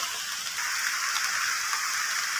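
Steady rain falls outdoors in Thailand during mushroom foraging, a dense, even hiss of drops on surfaces, close and constant throughout, with no voices.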